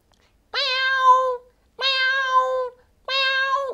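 A mimicry artist imitates a cat meowing, giving three drawn-out, clear meows separated by short silent pauses.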